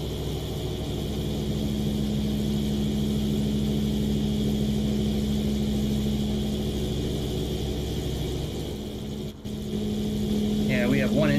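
Engines of the LZ129 Hindenburg airship in Microsoft Flight Simulator 2020, some of them switched off, give a steady droning hum that runs continuously while a person speaks over it.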